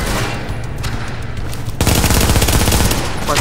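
An SMG fires in the video game Tom Clancy's The Division, a loud dense stream of rapid automatic shots that grows heavier partway through.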